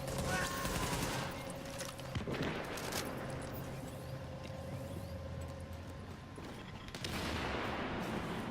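Gunfire in the video game The Division crackles in rapid bursts, fairly faint and distant, with a magazine being emptied over a dense bed of in-game ambience and mechanical noise.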